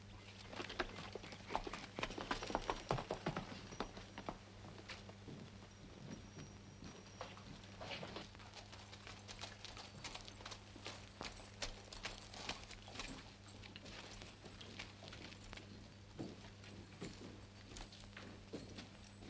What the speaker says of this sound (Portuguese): Agora monte no seu cavalo e vamos embora.